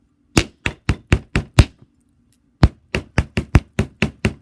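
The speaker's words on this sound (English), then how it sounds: "you just take your chasing hammer and you go all the way around hammering" Sharp metallic taps of a chasing hammer on wire strike in a steady rhythm, six blows, a short pause, then about eight more, loud and close.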